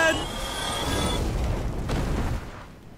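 A monster in Dark Souls blasts out fire: a broad, rumbling roar that swells and holds for a couple of seconds before tailing off, fairly loud.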